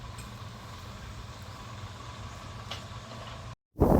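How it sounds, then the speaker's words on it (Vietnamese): A DC70 combine harvester engine runs at a steady drone, with a loud, even low rumble that continues for over three seconds. It then cuts out briefly before the noise comes back. "nghe đây là con DC70"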